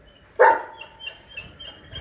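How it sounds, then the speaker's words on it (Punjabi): A dog lets out one sharp, loud bark near the start, followed by faint, soft whimpering noises. "ਇਹਨੇ ਭੌਂਕ ਭੌਂਕ ਕੀਤਾ"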